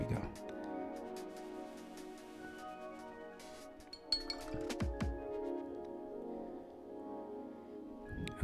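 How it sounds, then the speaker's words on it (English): A watercolor paintbrush clinks against a glass water jar while being rinsed, giving light chinks and swishes mixed with faint handling sounds. "I'm gonna rinse my brush"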